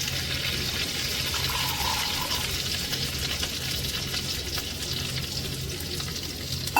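Onions sizzle steadily in a pan as they fry toward golden brown, a dense, even crackle close by with no voices over it.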